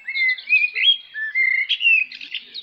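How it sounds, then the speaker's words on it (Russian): Songbirds singing outdoors in an English setting, with bright, continuous chirps and warbling phrases close by for the whole stretch, no talking. "И вы знаете, птицы поют."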